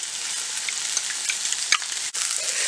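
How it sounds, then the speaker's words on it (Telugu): Spring onions frying in a pan of oil with salt and chili powder, a steady close bright sizzle with small crackles, briefly dipping before resuming. "ఒక 1 మినిట్ ఆయిల్లో ఫ్రై చేసుకోవాలి."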